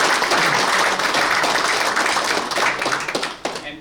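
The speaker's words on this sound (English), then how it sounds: "So could you give a round of applause for" Crowd applause at a world billiards championship final, a close, dense burst of many hands clapping that thins toward the end into scattered individual claps.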